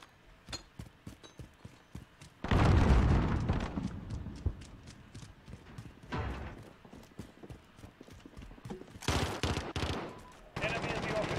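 Sharp gunshots and a heavy blast from a thrown frag grenade in a tactical shooter video game, with repeated close cracks and louder bursts scattered through the clip amid footstep-like clatter.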